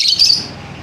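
A pet bird lets out a bright, high chirp at close range, one quick call right at the start that trails into a quiet, hissy room for the rest of the moment.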